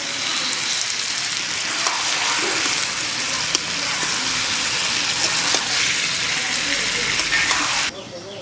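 Marinated mutton dropped into hot oil with spices, a loud continuous sizzle and hiss that holds steady before cutting down sharply near the end, with a voice talking over it.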